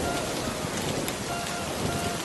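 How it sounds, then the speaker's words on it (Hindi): Heavy, continuous rain pours steadily in a rural farming setting, a dense, even hiss of drops on surfaces that holds at constant loudness throughout, with no voices. "हरिया, ये बारिश तो रुकने का नाम ही नहीं ले रही है।"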